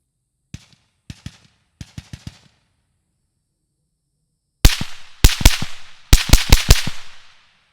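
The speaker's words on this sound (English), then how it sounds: "We're going to be shooting past it. You should be hearing it whiz by." Suppressed 5.56 rifle gunshots with bullets passing by: first four quick lighter pops, then a louder burst of heavy cracks that echo and ring out, with no voices.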